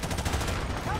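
Brief rapid gunfire from Call of Duty: Modern Warfare Remastered, a dense rattling burst lasting about a second under game noise.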